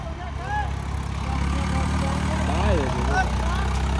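A tractor engine rumbles steadily at a low pitch during earth-filling work at a new gurdwara, with people's voices talking and calling over it.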